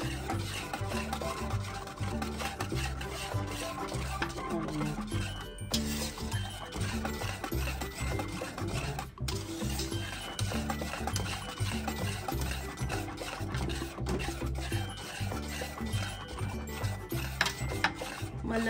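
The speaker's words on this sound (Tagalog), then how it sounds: "Basta haluin nyo lang ng haluin." A spoon working through thick cooked all-purpose flour paste for kimchi in a pot, steady scraping and sloshing stirring sounds continuing throughout, close and moderately loud with no talk.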